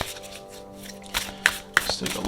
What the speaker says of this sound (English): let's go ahead and shuffle and see what your Moonology Manifestation is for the week